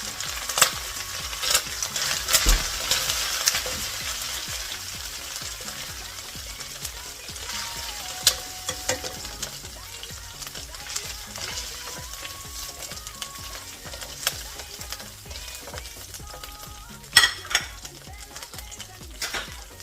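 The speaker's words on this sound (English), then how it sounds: "So we will let it fry." Shrimp sizzle in a hot pan for fried rice, a steady close frying hiss with occasional spatula stirs and scrapes against the pan.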